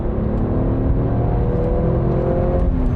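An Alfa Romeo engine revs up while driving, a loud, close, rising drone climbing steadily toward about 5000 rpm with a smooth harmonic growl and no talking.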